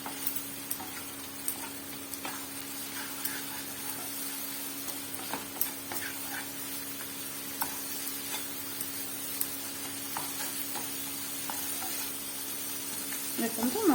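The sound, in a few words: masala frying and sizzling in a pan for paneer masala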